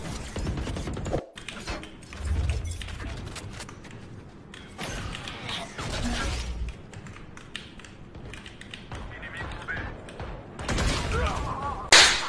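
Gunfire in a video game comes in several short, sharp bursts scattered among quieter clicking and tapping, moderately loud and close.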